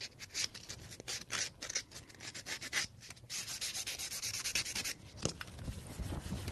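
Fingernails being buffed smooth during a neon nail art session, a close, steady dry rubbing and sanding scrape in quick back-and-forth strokes with brief pauses, no talking.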